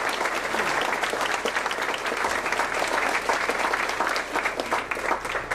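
A banquet crowd at a chamber of commerce awards ceremony breaks into loud, sustained applause, dense clapping holding steady throughout with no talking over it.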